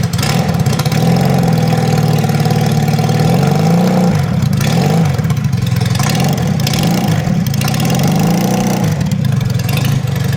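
A Regal Raptor Daytona 350 motorcycle engine runs at low RPM with a steady, rough, loud rumble and slight surges in pitch throughout, with no voices.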